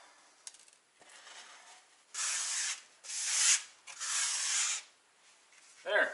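Excess tile grout is wiped and scraped from the grout lines while a cracked tile is replaced: three strong, close rubbing strokes with short pauses between them, and lighter scuffs before and after.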